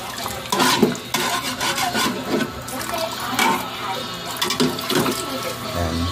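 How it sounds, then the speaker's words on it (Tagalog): Water pours into a pot of chicken and basmati rice for chicken kabsa, with close, continuous splashing and stirring noises that swell and fade in uneven bursts. "lalagyan natin siya ng tubig hanggang sa kumulo, hanggang sa maluto na rin yung manok"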